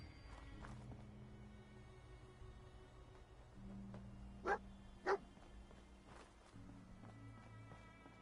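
A dog in the video game Fallout 4 gives two sharp barks close together over a steady low hum of game ambience and music.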